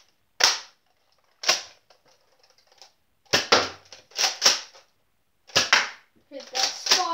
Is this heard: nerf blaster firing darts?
yes